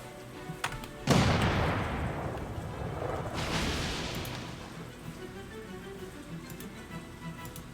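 Cannon bombardment in the video game Banner of the Maid: a heavy boom hits just after one second, with a second softer blast near three and a half seconds, each decaying in a long rumbling tail.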